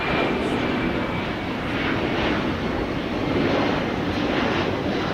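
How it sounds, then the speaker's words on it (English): Delta Flight 887, a Boeing 767-332ER, departing runway 25 at LAX for JFK. A steady, loud jet-engine roar holds throughout with a broad rushing hiss and no voices. "just departing here on the 25s is Delta Flight 887 back to JFK, New York City"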